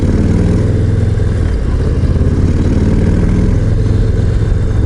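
A Harley-Davidson Low Rider ST motorcycle engine rumbles loudly and steadily while riding, a deep, close, continuous low-pitched throb with slight variations in revs and no talk over it.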